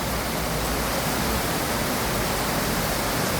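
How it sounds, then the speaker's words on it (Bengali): Heavy rain pours down steadily at the Adams Arcade market car park in Kenya, a dense, even hiss with no breaks and no voices. "বৃষ্টিটা খুবই ভালো লাগছে"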